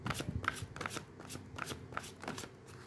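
Tarot cards being shuffled by hand, a soft papery riffle and flutter in quick repeated bursts, close and fairly quiet, with no talk.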